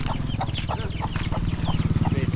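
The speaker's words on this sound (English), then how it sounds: "Oh, chicken's gone wild." Chickens on Don Det island in Laos cluck in quick, regular bursts, close and fairly loud, over a steady low droning hum.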